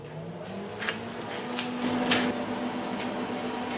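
A welder's wire feeder drives dual shield flux-cored wire through a 15-foot gun, making a steady motorized whine with a rising tone and light ticking clicks, close and continuous.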